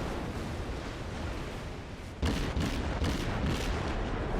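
The destroyer Nicholas fires high-explosive shells in World of Warships. After a low rumbling lull, a loud booming salvo hits, followed by several more heavy reports in a quick uneven rhythm.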